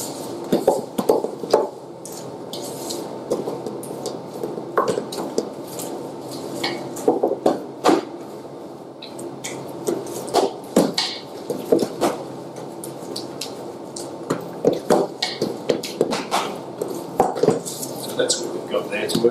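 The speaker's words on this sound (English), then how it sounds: "This time we haven't got the machine, so we're actually just making it by hand in the bowl." Cake batter being mixed by hand in a bowl, with repeated scraping and clinking of a utensil against the bowl, busy and close, under background talk.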